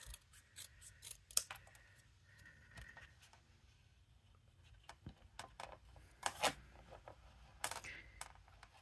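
Scissors snip paper strips for card making in a series of quiet, close, irregular cuts separated by pauses, with faint handling and rustling between them.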